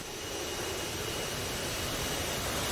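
Jet engine roar from the YF-16 prototype during a high-speed runway run at Edwards Air Force Base, a steady loud broadband rush with no voices.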